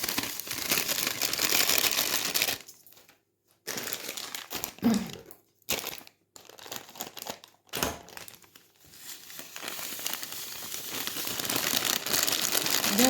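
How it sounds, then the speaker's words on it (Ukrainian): Plastic packets crinkle and rustle up close as they are cut open, with brief pauses, then something granular pours steadily into a bowl. "розрізаю ці пакетики, висипаю в миску"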